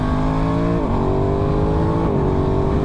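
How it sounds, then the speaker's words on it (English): Aprilia Tuono 660 motorcycle engine with a quickshifter holds a steady, loud, close drone, with two quick gear changes that make the pitch dip and settle lower. "The change in the sound of the motor shifting"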